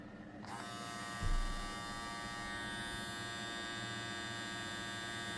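A BRD S17 electric hair trimmer runs steadily close by as a continuous high-pitched motor buzz and hum, with a brief low knock near the start and no talk.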